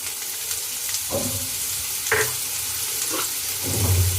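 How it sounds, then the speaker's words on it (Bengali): Chopped onions sizzle steadily in a hot pan for a dried-fish curry, with a constant crackling fry and a few distinct scraping strokes of a spoon as they are stirred, close and fairly loud. "পেঁয়াজের কুচি দিয়ে আমি হালকা নেড়ে চেড়ে একটু লবণ দিয়ে"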